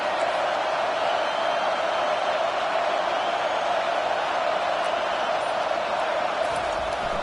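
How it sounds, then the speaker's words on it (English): A stadium crowd at a football game roars in a steady, dense wash of noise that stays loud and even throughout, with no single voice standing out. "This crowd bringing the energy and noise early."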